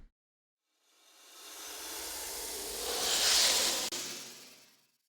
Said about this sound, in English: Here's the layer that I made with a bunch of snake hissing sounds.